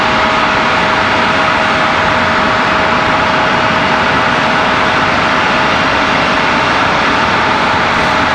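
A jet airliner near Raleigh-Durham International Airport, a steady loud engine roar with a faint high whine held throughout, no talk and no change in intensity across the stretch.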